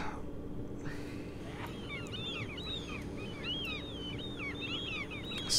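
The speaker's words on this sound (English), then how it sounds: "Seagulls just chirping away." Seagulls chirp and cry in quick, scattered calls over a steady low station hum in a train simulator game set around a Network SouthEast Class 483 line, the calls fairly faint and persisting for several seconds.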